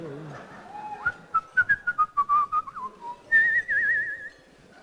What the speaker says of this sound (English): When you can whistle like a deli man, you're getting up there.